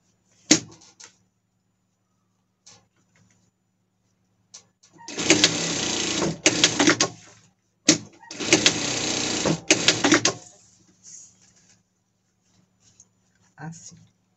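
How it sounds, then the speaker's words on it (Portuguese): Sewing machine stitching velcro onto the back collar of a costume, running in two loud sustained bursts of a few seconds each, separated by a brief pause, with quiet handling noises before and after. "Quando vai costurar esse velcro aqui de trás, você levanta a gola aqui pra não costurar junto"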